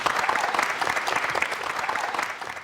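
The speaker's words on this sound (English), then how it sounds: "Give him a round of applause" A small group bursts into applause, with individual claps distinct and close, fast and uneven, tapering off after a couple of seconds.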